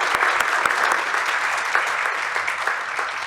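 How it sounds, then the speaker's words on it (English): An audience at the Poetry Festival Singapore opening ceremony applauds Professor Edwin Tambu, a dense, steady round of clapping that carries on evenly from start to finish. "Please give Professor Tambu a round of applause."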